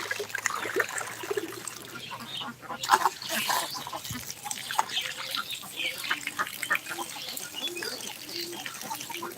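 Ducks raised for meat on a duck farm quack repeatedly amid trickling water and general barnyard bustle, a flock heard at close to mid distance.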